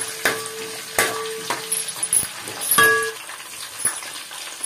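Whole spices (cinnamon, cardamom, cloves, cumin, marathi moggu) and green chilies sizzle in hot oil for egg biryani, with steady frying hiss and several close scrapes and knocks of a stirring spoon against the pan.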